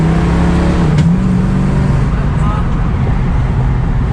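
A 1973 AMC Pierre Cardin Javelin runs on its first drive in ten years, its engine a loud, steady close drone throughout with only slight shifts in pitch.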